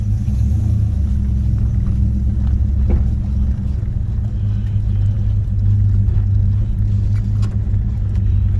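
A 1976 Oldsmobile Cutlass Salon with a 455 engine, still cold on a mild day, rumbles steadily while driving, a loud, constant low drone inside the car with no speech.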